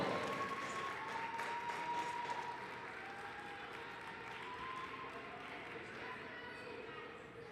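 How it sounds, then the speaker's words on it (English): A crowd at a girls' high school basketball game applauds, with steady, moderately distant clapping and crowd noise. A sustained tone and voices run underneath. "How about a big round of applause for the future of Golden Tornado"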